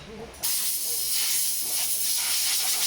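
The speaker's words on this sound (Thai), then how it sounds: "การเป่าฝุ่นความสะอาดแผงหน้าหม้อน้ำให้ค่ะ" A loud, steady rush of compressed air blowing dust off a Mitsubishi Pajero 3.2's radiator hisses on abruptly and keeps blasting, close by and continuous.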